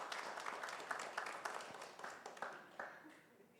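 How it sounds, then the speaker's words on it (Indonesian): An audience at an Indonesian development policy dialogue forum claps for a speaker being welcomed to the front, a fairly soft, scattered round of applause that thins out toward the end. "Mari Bapak Ibu kita beri tepuk tangan untuk Ibu Mutia."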